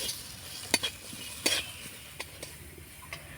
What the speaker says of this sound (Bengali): নাড়াচাড়া করে মশলাটা একটু কষিয়ে নেব।